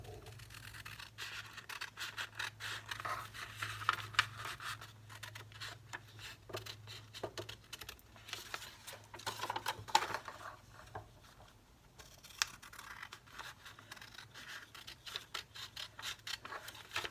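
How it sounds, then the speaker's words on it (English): Scissors snip through paper while cutting a mini book, a faint run of close, quick crisp cuts and rustles, steady throughout with a brief pause near the middle. "So take our scissors"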